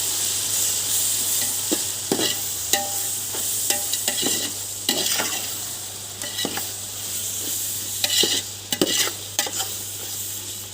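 Curry mixture stirred in a pot, a spoon clacking and scraping again and again over a constant frying sizzle and hiss, close and fairly loud, with no voices.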